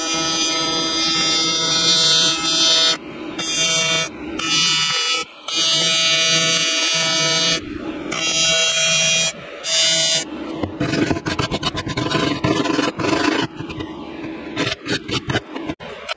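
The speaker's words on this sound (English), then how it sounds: "We're gonna get ready to start laying down some welds." TIG welding along cracks in a boat transom, a loud continuous electric buzz broken by short pauses, then turning rougher and more crackling toward the end.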